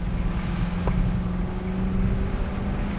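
A car accelerating up to 50 on a gravel road, a steady low engine drone with rumbling tyre and road noise, close and constant, one brief high tick partway through, no voices.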